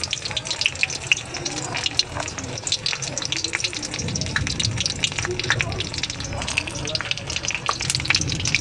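Katla fish wrapped in gourd leaves frying in oil in a pan over a gas flame, a steady close crackling sizzle throughout with occasional clatter, a voice speaking over it.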